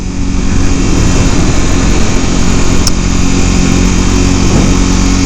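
A Honda CBR 300 sport bike's single-cylinder engine runs hard and loud up close, a dense continuous buzzing drone with steady revs and no talking.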